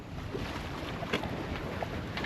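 Wind and water rush around a sailboat under way with a genoa set, a steady broad hiss with faint intermittent splashes and creaks, fairly quiet and without talk.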